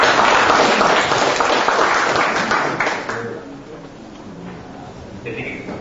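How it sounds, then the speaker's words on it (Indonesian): Audience applause at an Indonesian internet seminar, honoring Blangkon Linux; loud clapping fills the room for about three seconds, then fades away into quieter room sound. "Tepuk tangan untuk Blangkon."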